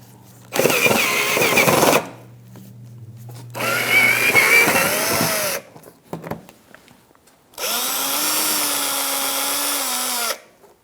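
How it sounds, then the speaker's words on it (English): Power drill whirring to back out screws from the engine splash shield under a 2005-2010 Chrysler 300, three loud sustained bursts separated by pauses with small clicks and handling noises, close up and no talk. "Take out these two screws, one on this side, one on the other."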